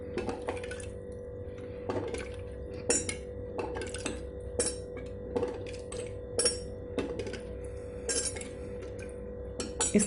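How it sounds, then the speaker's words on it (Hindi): Spoon stirring water into elephant foot yam pickle in a container, giving repeated light clinks and scrapes in an uneven rhythm, close and fairly quiet. "तो इसे इसी चम्मच से हम अच्छे से मिक्स कर देते हैं।"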